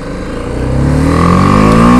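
A 310cc motorcycle accelerates hard while being ridden in sixth gear, its engine note climbing steadily in pitch and growing louder over two seconds, close to the microphone.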